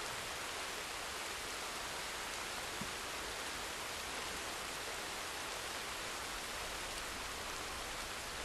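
Night rain falls in Red Dead Redemption 2, a dense, steady hiss of downpour spread evenly across the whole stretch, with no voices or other distinct sounds.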